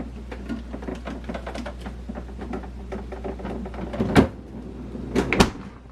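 A freezer drawer forced shut, with a run of rattling, clattering knocks building to two loud bangs near the end.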